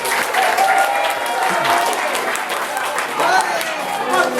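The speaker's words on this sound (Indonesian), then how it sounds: "Tepuk tangan untuk pembimbing yang respon." An assembled group of IPDN cadets claps loudly and continuously at a district head's briefing, a dense wash of applause with some voices mixed in.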